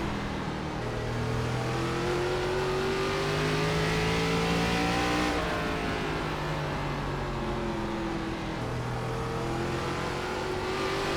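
Race car engines in the iRacing ARCA Menards Series video game at Langley drone continuously at close range, with several overlapping engine tones rising and falling as cars rev and pass.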